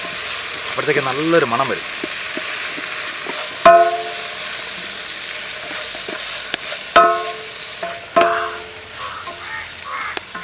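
Chopped tomatoes sizzle in a hot pan for a Neyyattinkara vayaloram chicken curry while a spoon stirs and mashes them, with a steady fry hiss broken by several sharp clanks against the pan and a voice speaking briefly early on.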